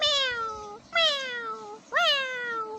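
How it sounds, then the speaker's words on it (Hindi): A Persian cat meows three times in a row, each call drawn-out and rising then falling, close and clear with no talking over it. "क्या खूबसूरत बिल्ली बढ़िया इंतहाई शरीफ जी बिल्ली है"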